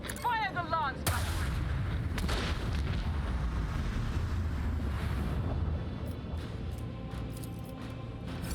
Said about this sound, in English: Fire the lance battery.